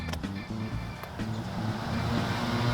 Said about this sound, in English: Not only does the 190E have a supercharger, but it also sounds like it wants to kill itself